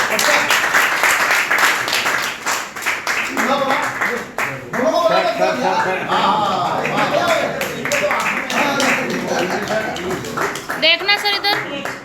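Applause and clapping from a seated audience at a senior citizens' carrom tournament prize ceremony in Bhiwani, steady and moderately loud throughout, mixed with people talking over it.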